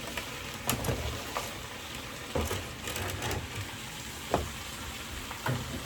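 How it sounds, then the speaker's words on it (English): Fresh spinach added to a frying pan makes a steady crackling sizzle, with scattered soft pops and stirring scrapes over the constant hiss, heard close with no voices. "So I'm going to add that into the pan."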